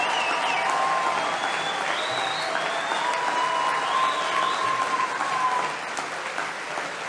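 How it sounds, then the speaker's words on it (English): Large crowd giving a standing ovation, dense sustained clapping at full volume throughout with faint cheering or whistles mixed in, easing slightly at the end. "They're giving him a standing ovation."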